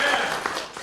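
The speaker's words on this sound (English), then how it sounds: "go ahead, clap for him too" Brief burst of audience clapping at a talk on multiple sclerosis and family life, moderate and close, a dense patter of hands lasting under a second, with faint voices mixed in.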